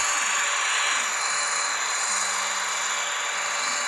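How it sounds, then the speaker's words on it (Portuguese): Grass being cut for hay with a continuous close buzzing and rasping drone of a cutting tool, steady and loud throughout with a faint tonal whine partway through. "Continuar cortando a grama."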